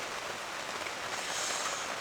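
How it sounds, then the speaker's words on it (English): Steady rain falling in rural England in summer, a constant even hiss of drops on surfaces, close and alone with no talk. "it's England and it's summer, so it's raining"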